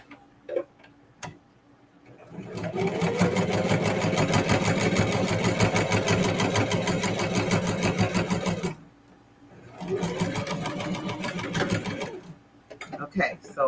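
A sewing machine stitching a fabric-scrap and denim reverse-appliqué quilt block runs in a fast, steady mechanical rattle for several seconds, stops briefly, then runs again; a few isolated clicks come before and after.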